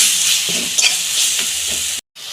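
Spice paste sizzling and being stirred in a pan over a lowered gas flame while cooking an amudi fish dish, a close steady hiss with soft scraping strokes and a brief cut near the end.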